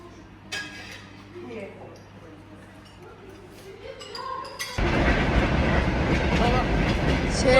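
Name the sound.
train passing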